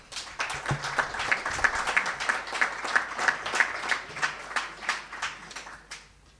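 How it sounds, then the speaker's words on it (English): A small crowd at a track and field meet claps steadily for several seconds, a modest round of applause with distinct individual claps, heard at a slight distance. "we're going to ask everyone to applaud everyone that's here at the head table."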